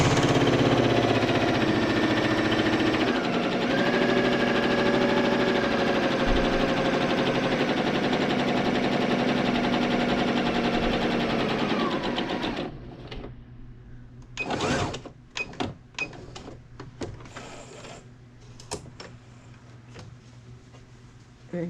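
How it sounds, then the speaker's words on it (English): Sewing machine stitching along the bottom of a pillowcase, a steady close motor whir that runs continuously for about twelve seconds before stopping, followed by scattered handling clicks and rustles. "I'm getting ready to sew along the bottom half of it."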